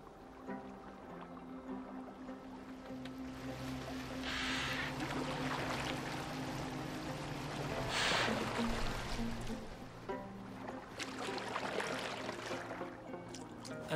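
A Viking-era boat glides over water in Assassin's Creed Valhalla, with a steady wash and trickle of water, a few soft splashes and an underlying musical drone.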